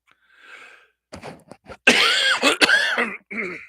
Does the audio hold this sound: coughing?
yes